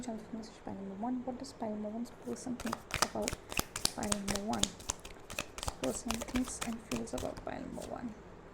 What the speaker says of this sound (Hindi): अब मैं थोड़े टैरो कार्ड्स निकाल लेती हूँ